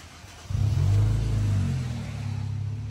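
An Infiniti Q50 Red Sport pulls out of a garage, its engine rising in a deep, loud rumble about half a second in, then settling into a steady low drone.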